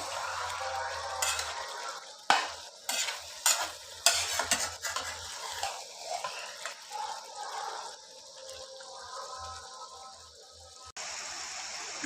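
Potatoes are stirred in a frying pan, giving a series of irregular scraping and clattering strokes over a soft sizzle. The strokes thin out toward the end, the frying hiss continues alone, and no one speaks.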